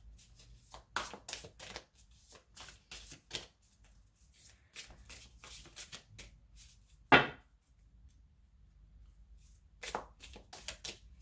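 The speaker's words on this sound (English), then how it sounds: "I'm just going to shuffle the cards a bit." Soft riffling and slapping of tarot cards being shuffled in repeated bursts, close and quiet, with one sharper tap partway through.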